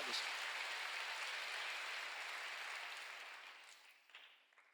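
Congregation clapping during a church sermon, a broad wash of applause that stays steady, then thins out and fades away, with scattered claps near the end.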